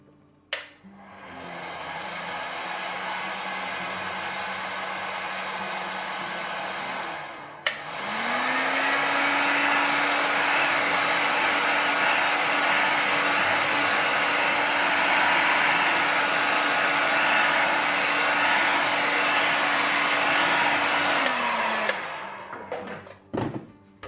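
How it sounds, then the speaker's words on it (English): A heat gun blows on the surface of a freshly poured, still-warm scented candle, a steady loud whooshing whir that stops briefly, restarts with a rising hum and runs for about fifteen seconds before clicking off. "I'm just going to give the surface just a little blow with the heat gun."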